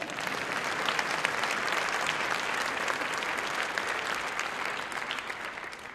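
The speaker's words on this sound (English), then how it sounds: "You can give me some applause on that." An audience at a college Founder's Day convocation breaks into sustained, loud applause, dense and even throughout before easing slightly at the end.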